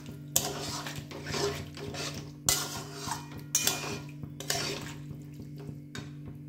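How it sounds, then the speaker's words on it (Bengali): Boiled kabuli chickpeas are mixed in a pot, with several sharp metal spoon clinks against the rim amid wet, squelching stirring, fairly quiet and close. "এবার আমি এটা খুব ভালো করে মিক্সড করে নেব।"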